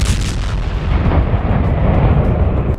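A demolition blast during military sapper training with an anti-tank mine, heard as a loud, sustained roaring rumble that fills the whole stretch without any voices.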